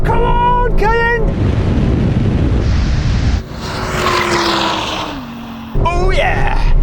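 A Porsche Cayenne Turbo GT and an Audi R8 drag race, engines roaring close by with rising and falling pitch as gears shift, swept by heavy wind rush, with excited voices shouting over the noise.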